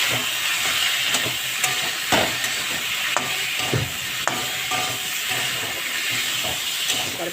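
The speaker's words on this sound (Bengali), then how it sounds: "ভালো করে কষিয়ে নেব দেখো সুন্দর করে আমি মশলাটাকে ভেজে নিয়েছি" A ginger spice paste with salt and turmeric fries loudly in a pan, giving a dense, steady sizzle with sharp ticks and scraping from stirring throughout.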